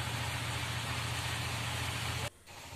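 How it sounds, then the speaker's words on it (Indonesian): A well-drilling rig engine runs at a steady, loud diesel drone on a borehole site, then abruptly cuts out and leaves a low residual rumble. "ini mesin dihidupkan"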